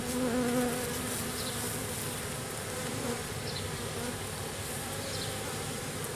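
A large swarm of honey bees hums in a steady, dense buzz of many wings at once, a continuous close drone as they move together and fan, with a few individual bees passing nearer.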